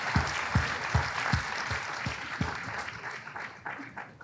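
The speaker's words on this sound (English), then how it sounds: "Another round of applause, please" Applause for county precinct commissioners at a commissioners court meeting, a steady wash of clapping from a crowd with sharp individual claps standing out near the start, fading slightly toward the end.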